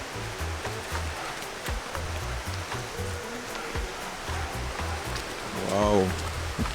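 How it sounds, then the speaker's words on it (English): A riverside stream flows steadily with a broad wash of water noise, while a voice talks intermittently over it close by. "Listen to the river."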